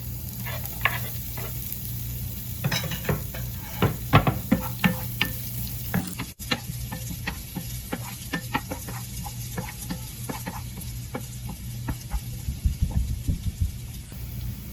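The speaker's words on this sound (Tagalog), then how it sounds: "Pwede na natin gisa yung bawang. Pwede na rin natin yung ating luya." Garlic and ginger sautéing in a pan for squid cooked with tomatoes give a steady close sizzle with a low hum, broken by frequent stirring scrapes and taps, and no talking.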